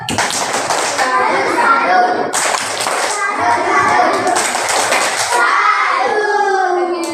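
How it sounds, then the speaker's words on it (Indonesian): A class of young children performs a chanted clapping routine as a salute for a classmate group, voices chanting together over loud, close, rhythmic hand claps in bursts. "mari kita beri tepuk salut untuk kelompok A"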